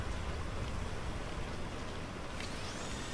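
Steady rain in GTA V, a dense, even hiss of falling water that continues unbroken throughout at moderate loudness, with no voices.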